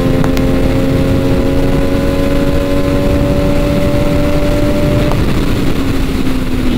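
An MV Agusta Dragster 800 RR motorcycle engine revs hard and steady at close range, its pitch climbing smoothly through a long pull before easing off near the end, with wind roar throughout.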